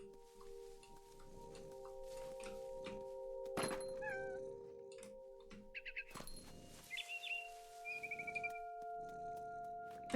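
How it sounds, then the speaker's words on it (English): A cat meows several times in the video game What Remains of Edith Finch, short, fairly clear calls over a quiet ambient hum, with a few dull thumps and faint bird-like chirps. "It does sound like we're a cat"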